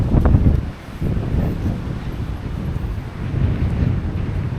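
Strong wind gusting outdoors on a walk, buffeting the microphone with a loud rumbling rush that dips briefly then steadies.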